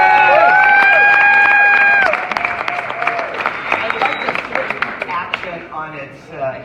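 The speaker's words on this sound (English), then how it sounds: "Round of applause." Applause from a live talk-show audience in San Diego, dense clapping with a few whoops for about two seconds, then thinning into scattered claps as a voice talks over it.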